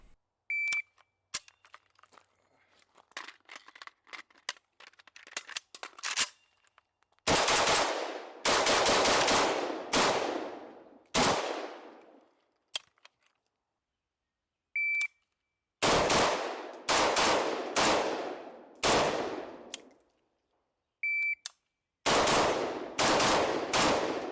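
An Arsenal SLR-107CR rifle fires in several rapid bursts of loud, close shots, separated by short silent pauses and scattered faint clicks and beeps.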